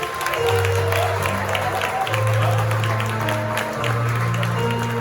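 A crowd applauds steadily at a graduation at DPS International School while a low sustained tone hums underneath, the clapping dense and continuous for several seconds.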